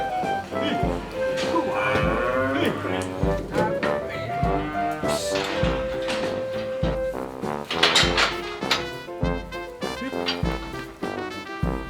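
Heifers low repeatedly in a farm shed on a livestock farm, with overlapping close moos and bellows and some background clatter throughout.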